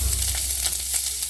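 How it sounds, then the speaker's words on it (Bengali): Onions sizzling steadily in hot oil in a pan, with mustard-green leaves, five-spice seeds and green chillies, a continuous close crackle with no voices. "পেঁয়াজ ভাজা হয়ে গেছে"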